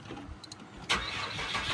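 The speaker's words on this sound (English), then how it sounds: "Okay, let's see if this thing starts." A race car under construction cranks and fires up: a couple of brief starter clicks, then a sudden catch into a steady, moderately loud idle, heard up close.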